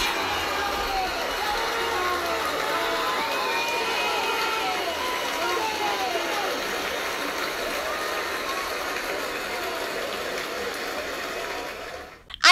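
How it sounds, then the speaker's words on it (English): A large crowd roars and cheers steadily with scattered shouts, a dense continuous wash of voices that cuts off abruptly near the end. "give a big, massive round of applause"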